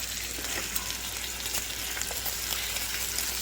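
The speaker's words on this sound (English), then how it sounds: "So I'm gonna get the bacon done." Bacon frying in a pan for breakfast, a steady close hiss and crackle of sizzling grease with scattered small pops, continuous with no voices.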